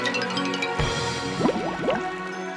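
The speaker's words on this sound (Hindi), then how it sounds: "और जानबूझकर कुल्हाड़ी को नदी में गिरा दिया।" An axe drops into a river with a sudden splash, followed by a short run of bubbling, gurgling drips as it sinks. Nothing else is heard.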